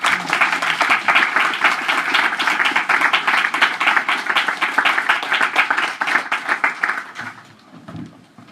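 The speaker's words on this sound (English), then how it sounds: "So let's give a warm round of applause for Ming." A poetry reading audience at the Rotterdam Poetry Festival gives dense, sustained applause for several seconds, the clapping thinning and fading out near the end.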